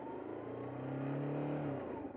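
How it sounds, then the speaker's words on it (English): A single motorbike engine revving up close before a hill start, its pitch climbing and holding briefly before easing off, with no talking. "what I do is I put the revs on"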